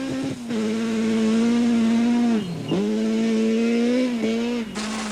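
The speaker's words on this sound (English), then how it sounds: "Lorenz and Vermeulen in the A7 Corolla were winning their battle with Fecken and Lefkowitz in the A7 Polo" Rally race cars, a Toyota Corolla and a VW Polo, driving a stage of the Tour Natal 2002 rally, with a loud, continuous engine drone that dips briefly twice as the driver lifts off, then revs again.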